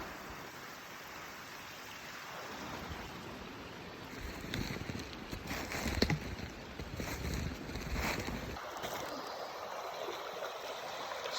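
Brook flowing through Maine woods, a steady broadband rush of running water that swells through the middle and stays moderately loud throughout, with no voices.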